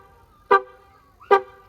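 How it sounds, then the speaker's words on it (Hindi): A Mahindra Scorpio N's horn, triggered remotely through the Adrenox Connect app, gives two short honks about a second apart, loud and close over a steady low hum. "साउंड करके हॉर्न कंटिन्यू बजता रहेगा"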